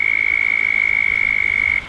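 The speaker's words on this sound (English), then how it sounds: "That is a loud frog, even over the sound of the waterfall." A loud frog croaks from a backyard bass pond, one steady, sustained call held nearly two seconds before cutting off, ringing out over the wash of a pond waterfall.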